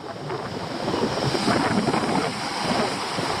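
Sea waves breaking against shoreline rocks, a loud, continuous wash of surf swelling and easing, with wind rumbling on the microphone.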